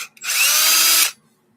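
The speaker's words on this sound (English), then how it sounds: "Here's my coffee bean grinder." An electric coffee bean grinder whirs loudly in one short burst of roughly a second, grinding beans at high speed, then stops abruptly.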